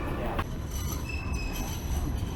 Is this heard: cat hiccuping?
no